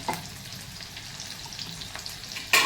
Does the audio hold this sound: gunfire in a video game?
no